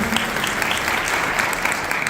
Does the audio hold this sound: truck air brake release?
no